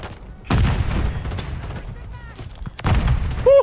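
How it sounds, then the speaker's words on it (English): Heavy grenade explosion and bursts of gunfire in Call of Duty MW3, with booming blasts near the start and again later, set against steady game noise and a shrill high tone at the end. "Beautiful grenade."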